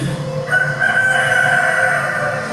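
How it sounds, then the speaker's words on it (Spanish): A rooster crows once, one long drawn-out call sounding fairly close and clear over a steady low background hum. "En ese instante cantó un gallo."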